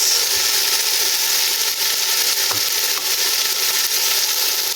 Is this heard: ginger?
yes